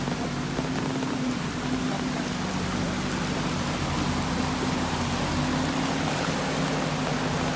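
Heavy monsoon rain in Kerala pours down in a steady, dense hiss beside a road hit by a landslide, with a faint low hum underneath and no talking.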